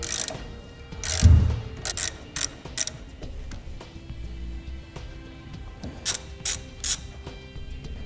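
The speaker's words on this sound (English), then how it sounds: "we're going to grab a 1/2 inch socket and ratchet and remove those bolts" Ratchet with a 1/2 inch socket loosening bolts on a trailer's master cylinder assembly, giving bursts of quick clicking pawl sounds between pauses and a single heavier clunk.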